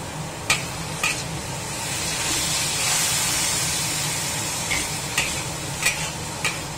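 Water spinach stir-fries in a hot wok with a steady loud sizzle and hiss, broken by sharp metallic clinks and scrapes of a spatula against the pan.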